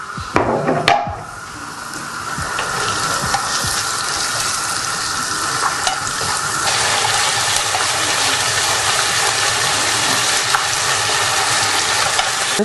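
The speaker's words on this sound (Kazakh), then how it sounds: "Осылай куриный филемізді саламыз." Chicken fillet sizzles in hot oil with onions in a pan while preparing fettuccine pasta, a steady loud crackling hiss with a few sharp clinks near the start and occasional stirring scrapes.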